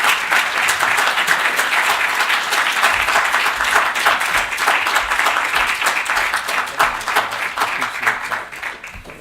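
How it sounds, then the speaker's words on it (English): An audience at a college summit hall applauds a guest speaker with dense, sustained clapping that stays loud and even for about nine seconds before easing slightly at the end. "Let's give a warm round of applause"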